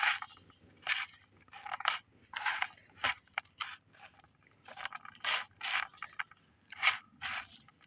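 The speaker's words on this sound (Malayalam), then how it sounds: "എയർ ലെയറിങ് ചെയ്യാനുള്ള പോട്ടി മിക്സ് ചാണകപ്പൊടി, ചകിരിച്ചോറ്, ഈ മണലും മിക്സാക്കുക" Potting mix of cow dung powder, coir pith and sand is stirred and scraped together by hand for air layering, giving repeated soft gritty rubbing strokes in an irregular rhythm, fairly quiet and close.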